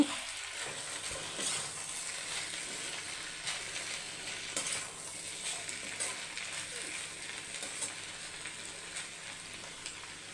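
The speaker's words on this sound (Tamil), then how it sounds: "தேங்காய் துருவல் கொஞ்சம் போட்டு ஒரு ரெண்டு செகண்ட் பரட்டி எடுத்தால்" Ivy gourd being stir-fried in a pan with grated coconut, a steady soft sizzle with light scraping stir strokes, close and continuous, no voices.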